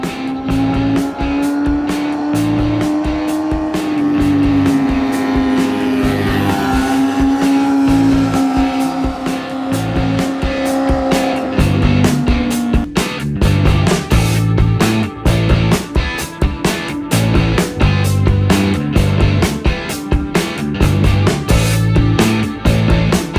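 A BMW S1000RR sport motorcycle fitted with an AR GP2 aftermarket exhaust runs loud and close, holding a steady, slightly wavering rev before breaking into a rapid series of sharp throttle blips and crackling bursts, with no talking.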